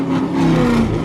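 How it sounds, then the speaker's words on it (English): Car engine revs hard at a Halloween car meet, a loud, close, sustained growl that holds steady through the short burst. "he revs so hard the doors shake"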